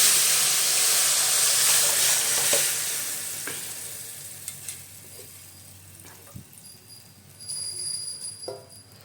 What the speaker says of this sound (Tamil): இப்போ இந்த கலவையை தூக்கி இந்த இதில் தாளிக்கணும்